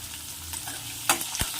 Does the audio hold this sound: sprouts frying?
yes